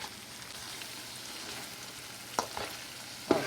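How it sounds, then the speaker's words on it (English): Onion, spices and chicken fry together in oil for a chicken thigh curry, giving a steady soft sizzle with a couple of brief stirring clinks near the end. "The oil starts coming up. That means frying is done."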